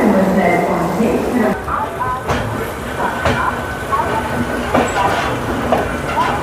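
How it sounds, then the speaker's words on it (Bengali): A train departing platform 9 at Howrah station rumbles along with rhythmic clattering of wheels and occasional clanks, steady and close, with faint voices in the background. "দু মিনিট দেরি করে আমাদের ট্রেন ছাড়লো হাওড়া স্টেশনের ন নম্বর প্ল্যাটফর্ম থেকে"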